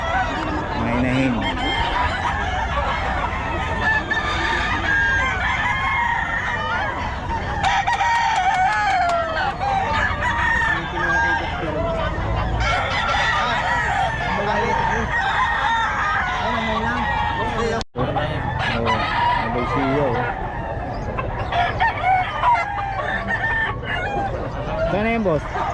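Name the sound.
hens clucking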